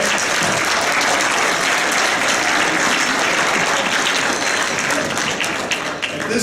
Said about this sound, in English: how about a nice round of applause for the parents?